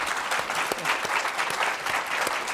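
An audience at a women's summit claps steadily for a few seconds, dense close applause with no voices over it.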